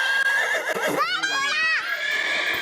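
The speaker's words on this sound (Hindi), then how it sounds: "घोड़ा आ गया है।" A horse neighs in a children's cartoon, one loud, close whinny rising and trembling through the middle of the clip, set over a steady bed of background noise.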